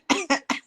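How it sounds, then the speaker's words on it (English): A man clears his throat several times in quick succession, four short rough bursts close to the mic before addressing a panel discussion. "Make I first clear my throat."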